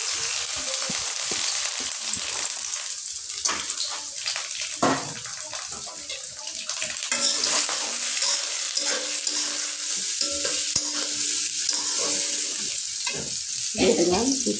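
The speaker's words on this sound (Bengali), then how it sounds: "পেঁয়াজটা আমি ভালো মতো এখন ভাজে নেব" Sliced onions fry in soybean oil in a wok, a close sizzle broken by scraping stirs and a few clattering knocks, with faint background noise and no talk.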